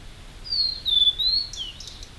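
Birds singing in a territorial context, with clear high chirping calls and whistled tweets repeated over a couple of seconds, moderately close over a quiet background.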